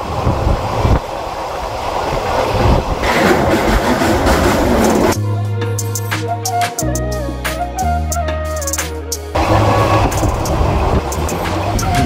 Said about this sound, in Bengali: ট্রেন তো ভালো স্পিডে যাচ্ছে